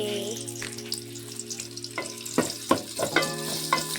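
Onions for Chittagong-style haleem frying in a pot at home, a constant sizzle broken by several sharp scraping stirs of a spoon against the metal, close and fairly loud.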